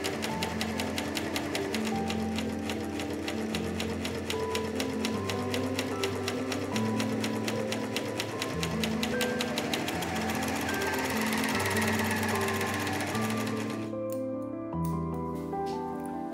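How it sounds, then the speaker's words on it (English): An overlocker sews stretchy teal corset fabric with a fast, steady mechanical chatter and hum that runs for a long stretch, then slows and stops near the end. "since the main fabric is slightly stretchy, I figured that overlocking would be the best solution for this"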